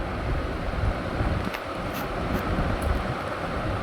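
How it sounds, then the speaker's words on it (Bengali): A train pulls in at a railway platform, a steady loud rumble and roar with rushing, wind-like noise throughout and brief higher hissing bursts near the middle. "এই তো আমার ট্রেন জাস্ট আসলো, এতক্ষণ ওয়েট করার পরে ট্রেন আসলো।"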